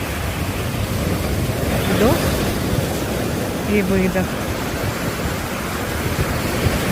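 Ocean waves wash onto a shore in a steady, soft roar of surf with a windy hiss, while a calm voice briefly speaks partway through.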